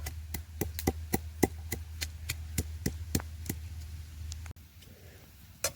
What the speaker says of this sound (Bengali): শিলের মধ্যে কয়েকটা রসুন নিয়ে নিয়েছি এবার এগুলোকে আমি এখন থেঁতো করে নেব